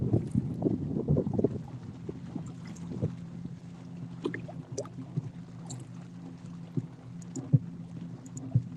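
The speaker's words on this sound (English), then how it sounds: "The little wind is picking up." Wind gusting across open water around a fishing kayak, a steady low rushing with scattered small knocks and splashes, busier at the start and then settling into a constant breezy wash.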